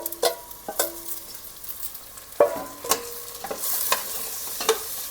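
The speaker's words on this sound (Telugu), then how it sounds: "మునక్కాడ వేసుకొని కొద్దిగా ఫ్రై అవ్వాలి ఆయిల్ ఇప్పుడు ఇందులో రొయ్యలు వేసుకోవాలి" Drumstick pieces and prawns frying in oil in a home kitchen pan: a close, steady sizzle broken by several sharp clinks and scrapes of a stirring spoon, with no voices.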